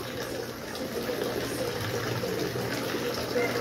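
A 1/8 HP 220-volt submersible pump pushes water into a concrete tilapia pond, making a steady close rushing and gurgling flow with a low hum underneath, continuous throughout.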